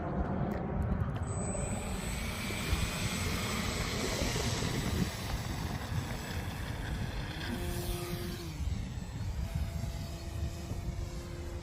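An RC stunt plane drones overhead outdoors on a calm day, its buzzing engine steady and fairly loud, then shifting pitch as it moves across the sky.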